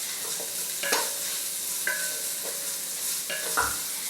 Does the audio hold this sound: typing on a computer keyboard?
no